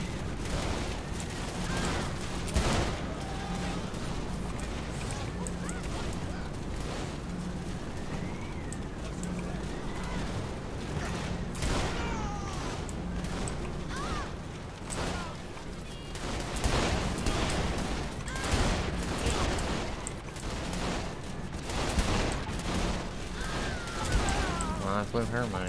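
Gunfire and explosions in the Saints Row video game, scattered shots and booms amid game noise, with people talking over the action throughout.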